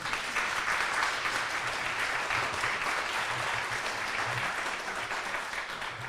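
Audience at an annual meeting gives a warm, sustained round of applause, a dense, even wash of many hands clapping at a constant loud level from start to finish, with no voices on top.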